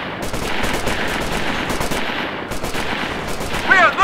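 Military shooter battle in Operation Flashpoint: Red River, with dense, continuous gunfire and rapid machine-gun bursts crackling throughout, including a louder flurry toward the end.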